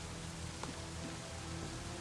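Steady rain hisses evenly throughout in a WW2 aircraft carrier simulator game: a constant, moderately loud wash with no talking.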